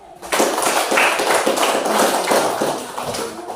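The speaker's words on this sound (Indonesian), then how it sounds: "Tepuk tangan untuk Sasa dan dia." A group of sixth-grade children clapping together in a classroom, quick sharp claps in a loose rhythm, close and fairly loud, lasting a few seconds.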